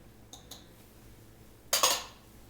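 A spoon stirs flour into a cream sauce in a pan: two light metallic taps, then a short, loud scraping swish against the pan, with no talking.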